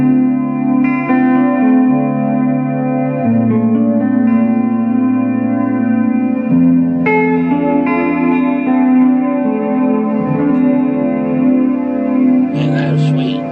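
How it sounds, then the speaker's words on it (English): An electric guitar rings out through the modulated reverb of a TC Electronic Hall of Fame 2x4 pedal, lush and shimmering with a wavering, chorus-like modulation; sustained notes and chords change slowly. "it's probably the modulated reverb, because it adds almost like a chorus type effect"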